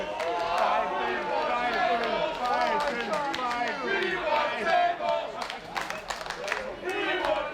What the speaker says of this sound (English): And the crowd chanting, we want tables